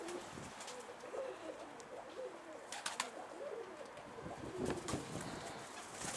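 Pigeons cooing inside a loft, soft repeated low coos over a faint rustling background with a few sharp knocks and wing or perch sounds, quiet and close, no talk.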